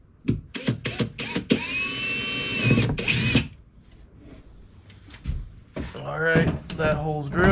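A power drill whirs loudly in short bursts and then a longer run, drilling a hole through a kayak hull for foot pegs, followed by clunks and someone talking nearby.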